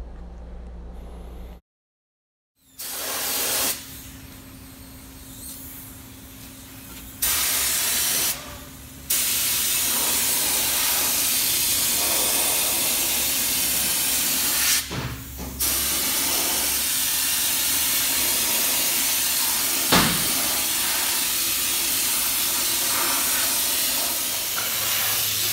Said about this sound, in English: We can go down the whole bottom of the truck, spray it with fluid film